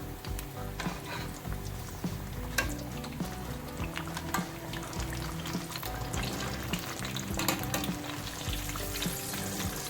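Pinwheel samosas deep-fry in hot oil, a dense, continuous bubbling sizzle heard up close with small crackles and pops and no voices.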